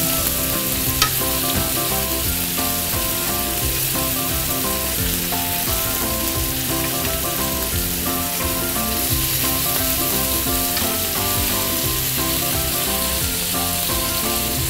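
Octopus sears in a hot pan, a loud, dense, unbroken sizzle that stays close and steady throughout with no talking over it.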